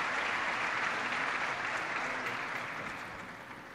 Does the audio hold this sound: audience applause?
yes